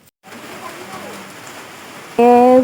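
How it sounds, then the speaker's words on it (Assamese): Steady rain hisses evenly throughout, close and moderately loud, ending abruptly in a loud tonal burst. "আজি বৰষুণ দি দিলে বহুত মজা লাগিছে"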